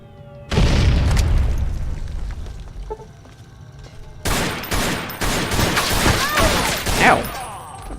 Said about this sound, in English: Machine gun turrets?